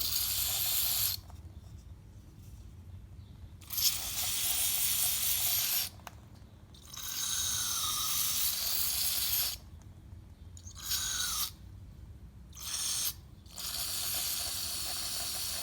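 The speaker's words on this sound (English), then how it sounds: "You just want to keep spraying and make sure it's nice and clean" CRC mass airflow sensor cleaner sprayed from an aerosol can into the air pickup of a Mazda 3 intake, heard as repeated loud, close hissing bursts of a second or more each, separated by short pauses.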